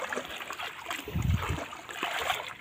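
Floodwater flowing around village houses near a large river, a steady wash of trickling and streaming water with a brief louder splash in the middle.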